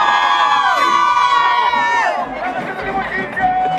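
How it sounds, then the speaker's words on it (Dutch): A street crowd at the Curaçao carnival parade fills the air with close, lively shouting, whoops and overlapping voices that carry on without a break. "we zijn nu een beetje verder gelopen en het publiek hier is heel gezellig"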